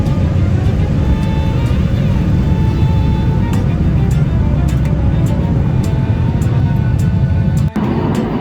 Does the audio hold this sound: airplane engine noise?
yes